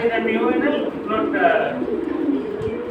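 Pigeons of high-flying silver, Jabra and feather-footed breeds coo softly in a steady low murmur beneath nearby talk.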